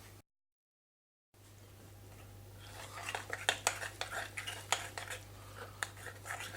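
Smoked mackerel pâté being mixed in a bowl with a utensil, giving a run of close scraping, tapping clinks against the dish that grow busier after a brief silent gap, with no talking.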